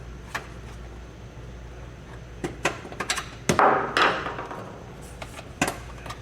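Plastic trim clips being pulled down from a car bumper make a scattered series of sharp clicks, snaps and thuds close by, with a louder cluster of pops near the middle of the short sequence.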